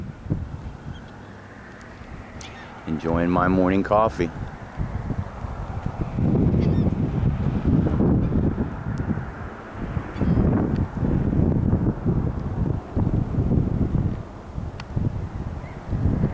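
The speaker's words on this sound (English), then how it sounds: "watching the birds" Geese or other fowl honk in a short burst of calls near the Key West airport at sunrise, then fall back under a steady wash of wind and low outdoor rumble.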